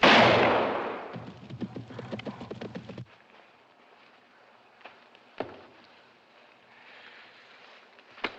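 A rifle shot rings out in a hunting scene from a 1952 film, a loud blast that decays into a rumbling echo, followed by rhythmic hoof-like clatter, then a quiet stretch with a few sharp cracks.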